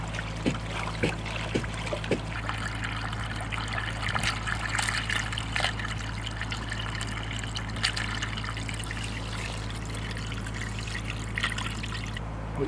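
Non-frozen water on a farm in winter trickles out through a drain, a faint steady dribbling stream with small irregular splashes and no talking.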